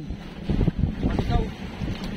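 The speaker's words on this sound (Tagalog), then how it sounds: "Okay, patayin ko muna itong makina." A small fishing boat's engine chugs at sea on a Pacific tuna-fishing trip, heard as a low rumble under wind noise, with someone talking over it.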